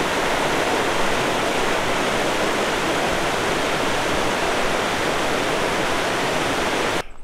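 Stream water rushing beside the Big Springs campsite on the Great Divide Trail in the Canadian Rockies, a close, loud and constant torrent with no voices.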